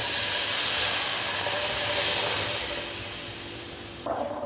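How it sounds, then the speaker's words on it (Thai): Coconut milk for a Thai curry, a dried squid and Thai morning glory gaeng tay po, heats in a pan with a steady, close, broadband sizzling hiss that eases slightly before a brief stir near the end. "ใส่กะทิลงไปครับ"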